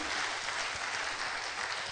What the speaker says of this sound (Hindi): दीदी का जोरदार तालियों से हम आभार धन्यवाद देते हैं